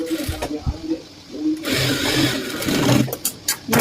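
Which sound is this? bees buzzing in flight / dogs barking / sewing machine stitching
sewing machine stitching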